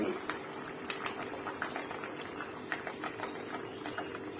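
Panang pork curry sauce bubbling in a pot, a steady simmering boil with frequent small pops and blips spread evenly across the whole stretch, close and fairly loud.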